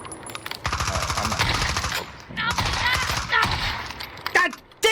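Rapid carbine gunfire rattles through a shooter video game in dense, repeated bursts, with a voice talking over parts of the shooting.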